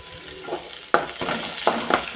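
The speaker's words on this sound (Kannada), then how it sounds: "ಈಗ ಇದಕ್ಕೆ ನಾನು ಕ್ಯಾಪ್ಸಿಕಮ್ ಅನ್ನು ಹಾಕ್ತಾ ಇದ್ದೇನೆ ಗ್ರೀನ್ ಕ್ಯಾಪ್ಸಿಕಮ್" Green capsicum sizzles with onions in a pan for a pasta dish, a steady close frying hiss with bursts of crackle as the pieces hit the oil and are stirred, no voices.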